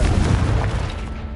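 A Confringo blasting spell explodes in Hogwarts Legacy, a loud, deep booming burst that rumbles and slowly fades over a second or so.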